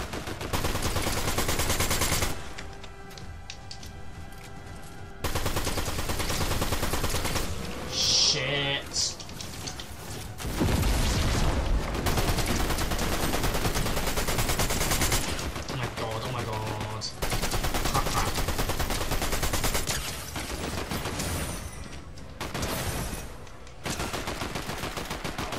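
Shotgun gunfire in the video game Fortnite: dense, loud bursts of blasts and impacts that come in clusters over roughly 25 seconds, with brief lulls between them.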